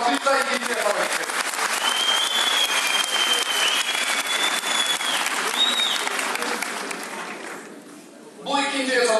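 An audience at a student Ottoman Turkish quiz competition final applauds steadily for several seconds with some whistles, fading near the end before a voice speaks.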